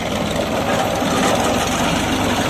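A New Holland 3600-2 tractor engine runs steadily in third gear while pulling a rotavator through hard ground, a loud, continuous low diesel drone with a throbbing pulse and no speech.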